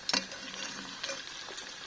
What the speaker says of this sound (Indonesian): Aku goreng semuanya aja.